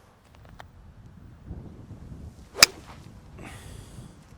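A single sharp whooshing crack of a golf club striking a ball on a drive outdoors at Bluegreen Saint Quentin en Yvelines golf course, with light wind and faint rustling around it.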